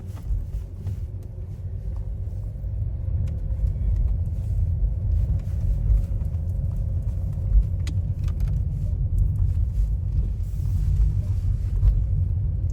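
A steady low rumble of a car driving along, heard from inside the cabin with constant road and engine drone and no clear voices.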